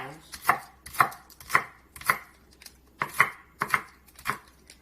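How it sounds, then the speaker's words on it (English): A knife roughly chops diced celery on a cutting board in about eight sharp, evenly spaced thuds, close and crisp with quiet gaps between strokes and no speech. "I just take my knife and I run through and give it a rough chop like this"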